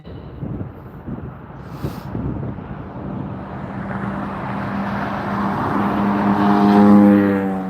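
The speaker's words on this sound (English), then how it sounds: "This is the Asiana Airlines Flight 204 arriving." Asiana Airlines Flight 204, an Airbus jet arriving at LAX from Seoul, roars in with a steady, swelling engine rumble and rising whine that grows louder and nearer toward the end, with wind buffeting the microphone throughout.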